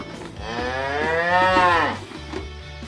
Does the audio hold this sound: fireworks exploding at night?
no